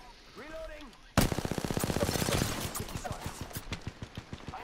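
Rapid automatic gunfire in the video game Apex Legends, a sudden loud burst of evenly spaced shots that keeps going and then thins into slower single cracks, following a brief stretch of voice.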